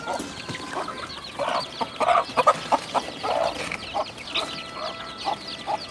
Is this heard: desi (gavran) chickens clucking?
yes